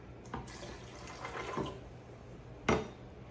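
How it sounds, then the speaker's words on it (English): A cup of water is poured into a blender jar with food for blending, giving soft trickling and splashing with a few sharper knocks and clinks, close and fairly quiet. "And I'm going to start with 1 cup of water."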